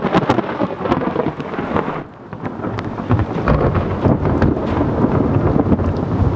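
A thunderstorm at sea seen from aboard a cruising sailboat: loud, rolling thunder rumbles over heavy, steady rain and gusting wind, with a brief lull before the roar swells again and holds.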